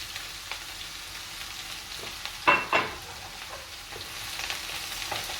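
Oyster mushrooms fry in a pan with a steady soft sizzle, and two quick scraping stirs of a utensil stand out in the middle before the sizzling carries on alone.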